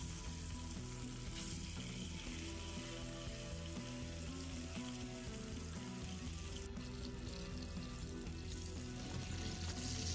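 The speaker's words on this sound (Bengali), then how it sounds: "ফ্রাই প্যানে তেল দিয়ে এভাবে করে আমি মাছটাকে একটু ভেজে নিব" A piece of hilsa fish, rubbed with turmeric and salt, fries in oil in a frying pan, making a faint, even, unbroken sizzle throughout.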